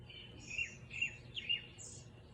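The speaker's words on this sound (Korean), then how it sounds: "새소리가 좋아서 찍었어요." Birdsong on the Mudeungsan mountain trail: three bright, repeated chirping calls ring out a little way off over a quiet forest hush, with no other sounds around them.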